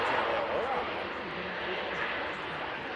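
An Air Transat A321neo airliner arriving at Manchester Airport, a steady broad jet roar at moderate distance, with a person talking over it.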